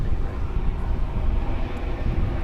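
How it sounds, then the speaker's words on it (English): Low, steady rumble of a Boeing 737-800 airliner preparing for takeoff at night at Dallas/Fort Worth airport, a continuous distant engine roar with no clear rise or break. "737-800. Getting ready to take off."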